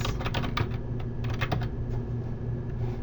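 Close computer keyboard typing as a conference title is entered, a quick irregular patter of key clicks in short bursts over about three seconds, with no talking.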